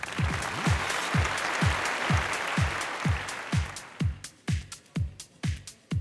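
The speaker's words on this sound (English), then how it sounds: "Please join me in giving them a warm round of applause." Audience applause at a telecom conference on 5G technology, a broad wash of many hands clapping in a hall, with strong low thumps from a PA or reverberant room, thinning to separate louder claps as it fades.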